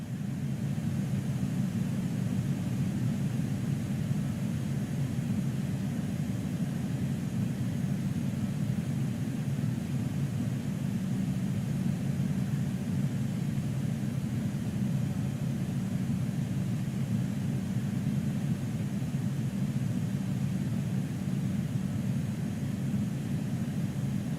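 Steady jet engine roar and low rumble of an Airbus A310 in a fast descent in Microsoft Flight Simulator 2020, a continuous broadband drone that holds even and loud for the whole stretch with no speech.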